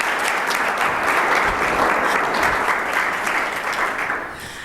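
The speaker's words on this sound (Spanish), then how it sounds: "Fuerte el aplauso para el Padre Gregorio" Steady applause from an indoor audience at a book collection launch, a dense wash of clapping that fades slightly toward the end.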